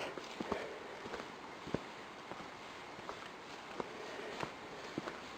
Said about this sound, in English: I think I hear horses or something.